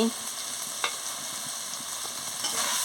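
Stirring poppy seed paste with a little chili powder in a frying pan for a ridge gourd poppy seed dish, with a soft, steady sizzle and occasional scraping strokes close by.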